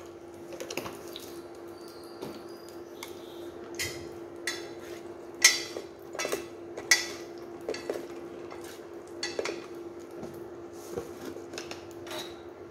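Curry ingredients with turmeric, chili powder and seasoning for a vegetarian curry of plantain and tofu being stirred and mixed in a pot, giving irregular scraping clinks of a utensil against the pot with a steady background hum, no talking.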